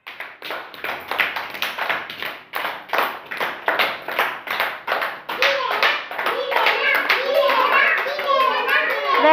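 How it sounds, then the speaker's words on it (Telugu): A group of children claps together in sharp, rhythmic bursts during an indoor play activity, close and loud, with children's voices chattering in the later part. "క్లాప్స్ కొట్టండి మీరు"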